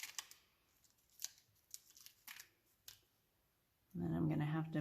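Several light metallic clicks and taps as scissors are set down, followed by a person beginning to speak.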